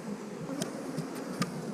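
Honey bees buzzing around an open hive in mid-April, a low, steady drone with a few sharper clicks and bumps from the hive close by, fairly quiet, and no voices.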